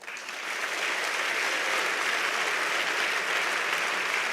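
A large audience at a World Health Organization event breaks into sustained applause, the clapping swelling in the first half second and then holding steady and full, a bright, even roar of many hands.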